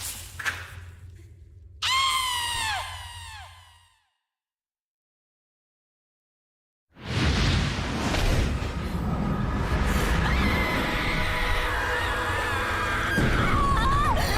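Screams and anguished wails in Metal Gear Solid 4: Guns of the Patriots, a breathy sighing cry first, then after a silent gap a loud, sustained burst of shrieking voices over dense rumbling game noise.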